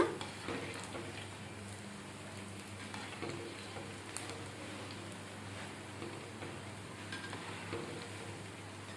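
Chilli bajji fritters, sliced green chillies in batter, fry steadily in hot oil with a continuous soft crackling sizzle, close and even throughout, no voices.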